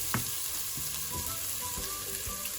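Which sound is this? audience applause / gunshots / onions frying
onions frying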